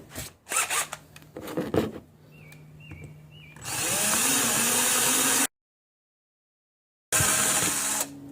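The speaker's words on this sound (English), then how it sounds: "I have to switch to a drill." A power drill bores into the side plate of an antique Yale padlock, with a few scraping tool sounds first, then a loud steady whining drill run that stops abruptly and resumes after a short silence.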